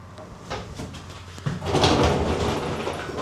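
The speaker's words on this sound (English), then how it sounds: "The door fits, it works, it latches." A classic Mini car door swings shut and latches with a short knock near the middle, followed by a louder broadband rattle and clunk as the door presses in and settles.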